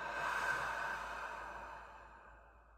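One long, soft exhalation through the mouth during a guided deep-breathing exercise, close and breathy, tapering gradually into silence.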